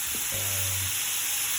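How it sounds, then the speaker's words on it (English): Shrimp sizzling in garlic, olive oil and butter while tossed in a pan, a bright steady hiss of frying with a brief low scrape of stirring near the start, close and even throughout. "I'm mixing this around within the garlic, the olive oil, the butter."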